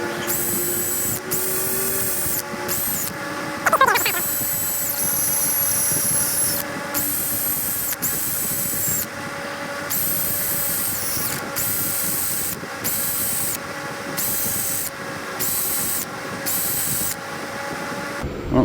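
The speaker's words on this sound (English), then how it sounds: "So I'm gonna wire wheel it real quick here" A wire wheel scrubs a broken-tipped Dewalt DW682 biscuit joiner blade clean, a loud, steady motor whine with a gritty abrasive hiss that holds continuously with small shifts in pitch.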